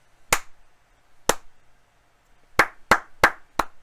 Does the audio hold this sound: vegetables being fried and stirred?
no